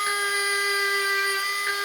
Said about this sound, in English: I'm going to give it a little polish with the Dremel